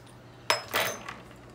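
A boiled egg is tapped against a hard surface, giving a sharp crack followed by a brief crackling peel of the shell, faint and close in a quiet room.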